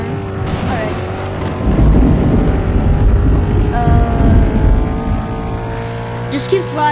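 A car engine drones and surges in a tornado survival video game, a steady low rumble with rising revs and a whooshing pass, while someone talks over it.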